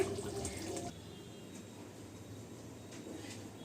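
Water pours steadily from a tap into a large cooking pot being filled for rice, a continuous rushing splash that is louder at first and then settles into a softer, even flow, with no talking.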